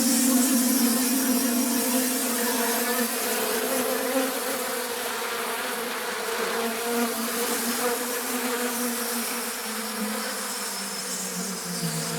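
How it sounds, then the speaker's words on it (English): A voice computer-morphed into a dense, steady swarm of buzzing bees drones continuously, full and close, with a low hum beneath a bright whirring haze. "using the computer to take it down further, and then morphing that into the sound of bees"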